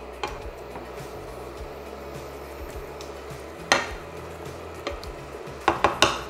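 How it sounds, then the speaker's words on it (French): A spoon stirs a zucchini and coconut milk curry in a pan, with a soft steady simmer and sizzle under a few scattered clinks and scrapes against the pan, fairly quiet and close. "Je remue encore."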